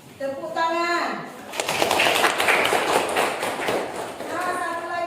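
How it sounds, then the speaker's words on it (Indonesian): Classroom of students breaking into a burst of hand clapping after a teacher's voice, dense broadband patter lasting a few seconds before speech resumes over it. "Nah, udah betul. Tepuk tangan."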